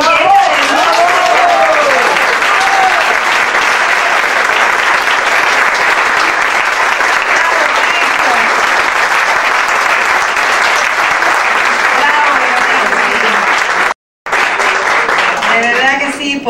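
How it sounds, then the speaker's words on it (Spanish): Theatre audience giving an orchestra a sustained round of loud applause, dense continuous clapping from a large crowd with some voices mixed in, briefly cutting out near the end before resuming. "quiero que le demos un fuerte y lindo aplauso a esta magnífica orquesta"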